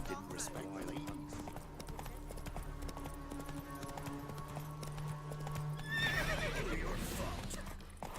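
Geralt's horse Roach galloping in The Witcher 3, a steady clip-clop of hooves with a whinny and game music beneath, while someone speaks briefly over it.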